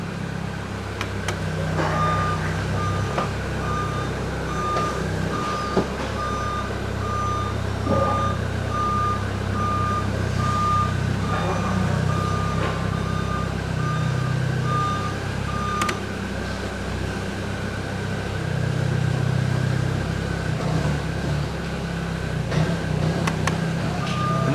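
A forklift drives around a metal fabrication shop while its reversing alarm beeps steadily and repeatedly, with the truck's engine rumbling low underneath throughout.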